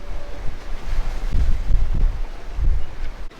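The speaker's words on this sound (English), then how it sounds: "Wind still sitting at about 15 knots" Steady wind of about 15 knots blows over a sailing catamaran at sea. It is loud, gusty and close, rumbling against the microphone with surging swells, and no voices are heard.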